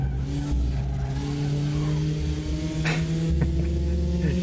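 A Porsche race car in RaceRoom Racing Experience holds a loud, steady, droning engine note at sustained revs, with a brief shift-like blip near the end and no talk over it.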